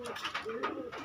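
A red-tailed white Maya pigeon coos close by in a short series of soft, repeated, throaty calls with slight pauses between them.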